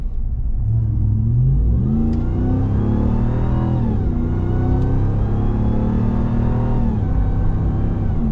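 A 2021 Ram 1500 TRX's supercharged 6.2-litre V8 roars loudly as the truck accelerates hard, the engine note climbing and shifting through gears in a continuous rising rumble heard from inside the cab.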